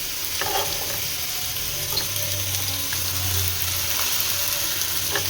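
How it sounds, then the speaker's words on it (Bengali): Potatoes frying in a pan with mustard seeds and curry leaves, a steady hiss of sizzling oil with intermittent stirring scrapes and clinks, close and moderately loud, no talk. "দেবো আলু। আলুটা একটু নেড়ে চেড়ে বাকি সবজিগুলো দিয়ে দেবো।"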